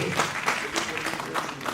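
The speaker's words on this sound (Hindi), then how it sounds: "तो दमदार तालियों से आपका स्वागत करेंगे।" Audience clapping to welcome a guest onto the stage at a Gen Z panel session, a dense, steady patter of many hands close by, with a voice faintly mixed in.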